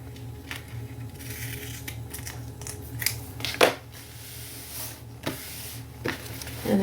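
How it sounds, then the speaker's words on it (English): Scissors snip through fabric washi tape in a few short, separate cuts at close range, quiet and sparse against a faint steady background hum, with no talking. "I'm just going to cut it out"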